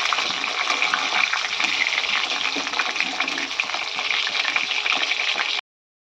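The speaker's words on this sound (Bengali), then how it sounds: "আর আলুগুলোকে একটু ভেজে নিচ্ছি।" Unpeeled potatoes with their skins on fry in hot oil as a steady, close sizzle with crackling spits. It continues evenly for several seconds, then cuts off abruptly.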